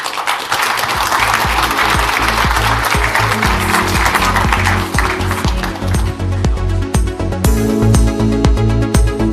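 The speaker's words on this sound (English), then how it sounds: "A huge round of applause." Loud, dense applause from a large crowd that continues for several seconds, with no one speaking over it.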